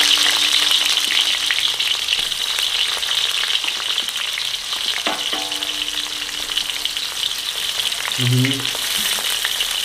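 Onions frying in oil in a pan during a soy-sauce fish dish, a continuous loud sizzle and crackle with brief scraping clatter near the end; a voice speaks a single word.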